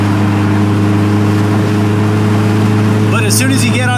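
Honda S2000 with a newly fitted aftermarket exhaust on a race track, its engine holding a steady loud drone with strong low harmonics that begins rising as the throttle opens near the end, with a voice talking over it.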